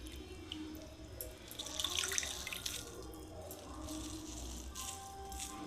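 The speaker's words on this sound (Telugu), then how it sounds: "ఒకసారి వాటర్ వేసేసి ఇది గట్టిగా పిండేసేయాలి" Bread slices are soaked under running water, likely at a kitchen tap, with a steady faint splash and trickle, a few drips, and light rattles throughout.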